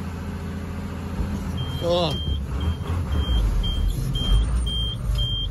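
A car engine revs hard with the brake and accelerator both held, giving a steady low roar with a repeating high electronic beep over it and a brief voice near the start.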